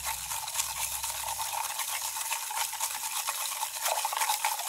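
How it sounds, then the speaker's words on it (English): Salt and ice water being stirred in a cup: a steady, close scraping swirl with faint clinks, continuing for the whole stretch with no voices. "Stir, stir, stir."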